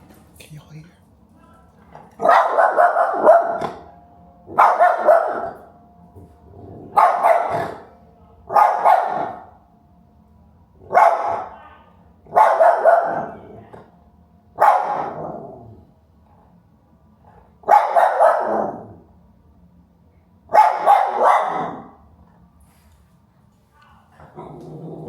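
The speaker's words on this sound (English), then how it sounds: "One thing about my dogs, they gonna bark, honey." Dogs in a Brooklyn, New York home bark in repeated loud bursts every few seconds, with short quiet gaps between the volleys, close by and dominating the room.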